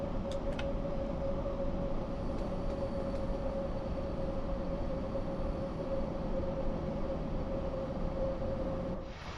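A Class 90 locomotive hauling freight in a train simulator game runs under light braking, a steady loud rumble with a sustained tonal hum throughout.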